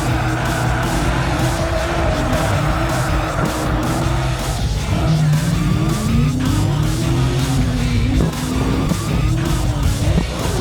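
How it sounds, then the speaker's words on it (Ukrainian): A drift car slides sideways during a Pro-Am drifting competition round, its engine roaring loudly and steadily, with tires squealing continuously throughout. "дрифтинг це змагання в керуванні автомобілем в стані заносу"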